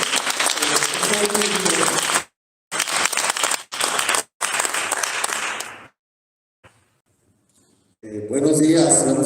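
A burst of loud applause from an audience at a national economists' congress, cut by brief gaps, then silence before a voice begins speaking.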